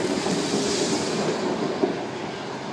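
A Sydney train rumbles steadily nearby at Cringila station with a broad, constant roar and a faint clatter of wheels, no voices present.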